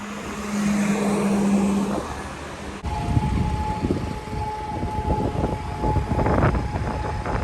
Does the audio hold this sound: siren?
yes